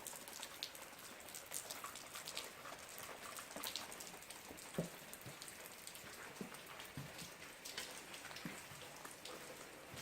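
Soft, steady patter of raindrops tapping on a surface, faint and continuous with scattered louder drips.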